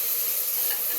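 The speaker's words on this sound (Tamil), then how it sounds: "தக்காளி வதங்குது" Tomatoes sauté in a pan with a steady, close frying sizzle, an even hiss with no breaks across a single brief second.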